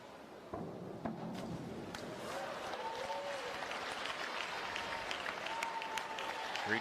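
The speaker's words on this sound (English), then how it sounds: "She's getting the loudest applause in the stands of anybody." Audience in the stands applauding a woman diver after an inward two-and-a-half somersault tuck on the 3 meter springboard at a collegiate diving final, steady clapping swelling after a moment and sustained throughout, with faint voices mixed in.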